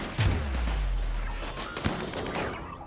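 A burst of rapid gunfire in the video game RimWorld, sharp and loud at first, followed by a few scattered shots and lingering echo.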